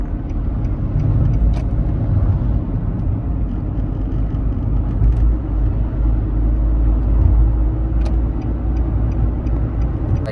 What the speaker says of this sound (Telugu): సో అందుకే ట్రాఫిక్.